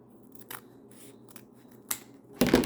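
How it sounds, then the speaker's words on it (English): Scissors snip through ribbon at an angle while a double bow is made, a few quiet isolated blade clicks followed by a louder, closer crunching cut at the end. "We're going to take our scissors and we're going to cut it at an angle."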